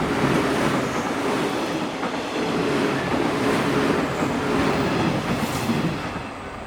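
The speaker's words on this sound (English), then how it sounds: "Next thing I really wanted to do was to catch a shot of the iconic yellow train passing by on the" A yellow train in the seaside town of Onomichi, Japan, rolls past on the track, its steady clickety-clack and wheel rumble holding loud and close throughout, with no talking.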